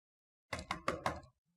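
Four sharp knocks on a door in a Pakistani TV drama, evenly spaced and close, sounding alone without talk.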